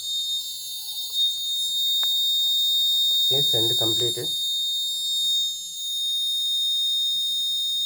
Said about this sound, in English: Alarm also on. Alarm on.